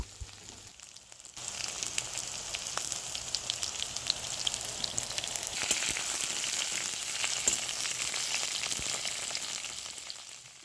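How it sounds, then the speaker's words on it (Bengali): Pointed gourd (potol) pieces lightly frying in an oiled pan, a steady crackling sizzle starting after a quiet second and holding evenly throughout with scattered pops, no voices. "পটলগুলো প্রথমে হালকা একটু ভেজে নেওয়া হবে"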